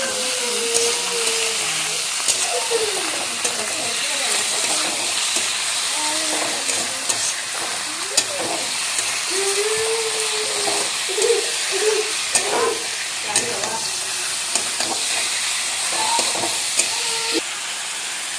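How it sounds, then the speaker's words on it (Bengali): Chicken and onions frying in a pan, a steady sizzle and hiss with intermittent scraping of a spatula as the pieces are stirred, close and continuous. "তো পেঁয়াজের সাথে এখন এগুলো নাড়ানাড়ি করবো।"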